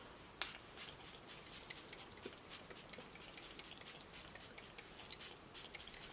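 L'Oreal Infallible Magic Setting Spray is misted onto a face in a quick series of soft, airy spritzes, each short and faint, coming at a fairly even rhythm close to the microphone with no talking.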